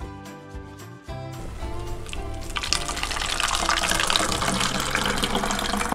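Tap water pours into a plastic bottle holding fruit for a landfill methane experiment. A steady, loud rushing fill comes close to the microphone after a brief start, with no talk.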